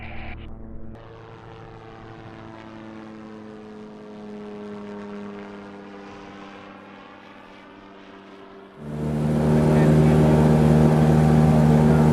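Engine of a Terrafugia Transition street-legal flying car during takeoff, a steady propeller drone heard from inside, slowly shifting in pitch, then rising sharply louder near the end. There is no talking.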